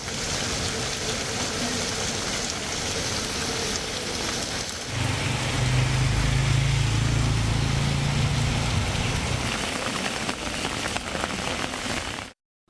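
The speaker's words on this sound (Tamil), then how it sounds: "சிவகங்கை மாவட்டம் திருப்பத்தூர், மானாமதுரை பகுதிகளில் பலத்த காற்றுடன் பெய்த கனமழையால் சாலைகளில் தண்ணீர்" Heavy rain with strong wind in Tiruppatur and Manamadurai, Sivaganga district, Tamil Nadu, a dense steady roar of rainfall with a deep rumbling wind layer swelling through the middle before cutting off abruptly.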